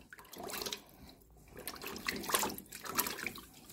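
Water and a baking soda solution being worked over a water dispenser's container with a sponge, giving close, continuous swishing and splashing with uneven surges.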